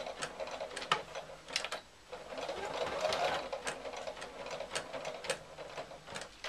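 A sewing machine stitching a straight seam on a fabric tissue box cover, running backwards and forwards in quick rattling bursts with a brief pause midway, quiet and close.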